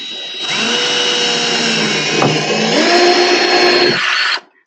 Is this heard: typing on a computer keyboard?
no